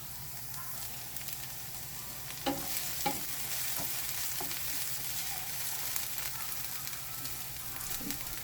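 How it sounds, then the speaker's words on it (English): Onions sauteing in vegetable oil in a pan crackle and sizzle steadily at close range, with occasional spoon scrapes and taps as they are stirred, no voices. "I just went in with my onions. I'll saute for like a minute."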